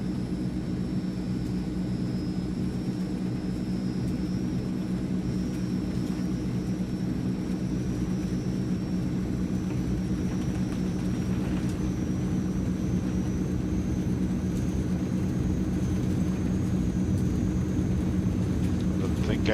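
Propeller engines of a Transall C160 transport aircraft drone steadily at takeoff power in Microsoft Flight Simulator, a continuous broadband roar with a faint rising whine, heard alone.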